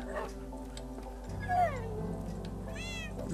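A cat meows in Minecraft, a couple of short rising-and-falling mews heard over a steady low game background hum, with no talking.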